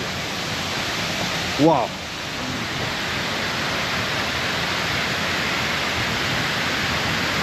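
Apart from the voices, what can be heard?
waterfall in Lombok, Indonesia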